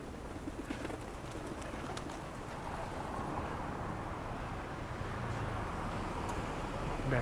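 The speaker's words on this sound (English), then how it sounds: "Pigeons just having a blast here." Pigeons coo softly in a busy street in Chiang Mai, Thailand. Their low, faint calls sit under a steady wash of traffic and city noise.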